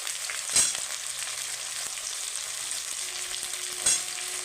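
Potatoes fried in hot oil for a poppy seed dish, a steady soft sizzle with two brief louder bursts of crackle, close and unaccompanied by talk.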